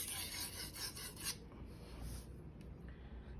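A Shirogami 1 carbon steel bunka knife is being sharpened on a Rika 5000 whetstone, giving close, steady rasping strokes that scrape back and forth with no talking.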